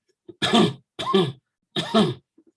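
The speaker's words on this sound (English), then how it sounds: "it's more of a belly cough and less of a chest expanding cough" Three short coughs, each a brief harsh burst with a pause between, close and clear against silence.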